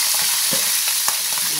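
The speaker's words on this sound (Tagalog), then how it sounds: "Prito-prito na po natin." Filipino adobo fries and sizzles in a pan while being stirred, a steady close hiss broken by a few soft scraping strokes, with no talking.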